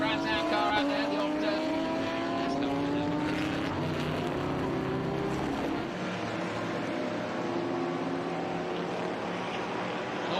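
An old Trans Am race car from the late 70s or early 80s snarls around Mid-Ohio, a loud continuous engine drone with shifting pitch as it passes, then fading slightly.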